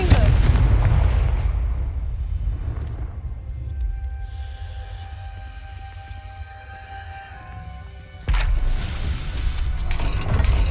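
Confringo spell blasts in Hogwarts Legacy: a heavy booming explosion that rumbles and fades over several seconds, then a second sharp burst, loud and close.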